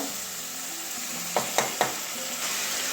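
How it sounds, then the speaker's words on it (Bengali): Spice paste sizzles steadily in a pan after water is poured in, a constant broad hiss broken by three quick utensil clicks near the middle. "মশলার মধ্যে জল দিয়ে মশলাটা কষিয়ে নেব"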